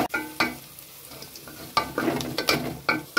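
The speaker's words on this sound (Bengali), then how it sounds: "এই পেঁয়াজের মধ্যে আমি আলু আর গাজরটা দিয়ে দেবো। আমি একটুখানি রিফাইন তেল দিয়ে দিচ্ছি।" Potatoes and carrots are stirred into onions in a little refined oil, with scraping spoon strokes over a steady sizzle and several sharp bursts of clatter.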